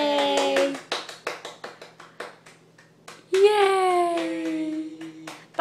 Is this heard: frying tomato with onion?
no